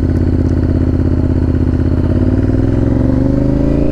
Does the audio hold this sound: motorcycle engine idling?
yes